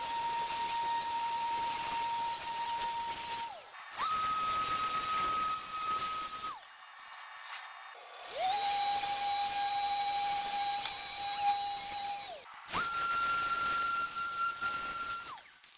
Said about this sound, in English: For the polishing pads, it's only needed to go over the epoxy portion of the board